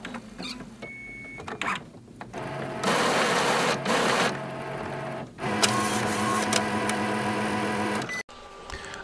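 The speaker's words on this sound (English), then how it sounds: "And this is how the printer powers off." An Epson printer powers off as its printhead moves, with whirring motor runs, mechanical clicks and sliding carriage sounds in several loud stretches, close up, ending in a sharp click.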